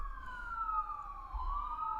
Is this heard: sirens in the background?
yes